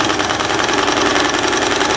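A sewing machine runs steadily through a backstitch over elastic on a simple three-tier dress, a continuous close mechanical whir with a fast even stitching pulse.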